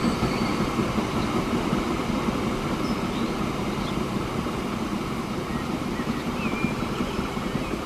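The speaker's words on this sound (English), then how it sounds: "This is a very strange train." A train runs in the video game Transport Fever 2, giving a steady rumbling roll with faint wheel squeal and rail clatter. It holds at a constant loudness for the whole stretch, with no talking.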